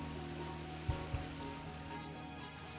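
Milomiris waterfall at Platres in the Troodos mountains, water dropping about 15 metres, gives a steady broadband rushing wash with a couple of brief low thumps partway through.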